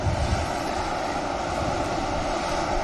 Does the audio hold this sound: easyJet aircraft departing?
yes